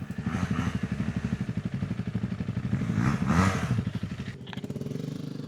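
A dual-sport motorcycle engine starts and settles into a steady, throbbing idle, close and fairly loud, with a brief rise in revs partway through and no talking.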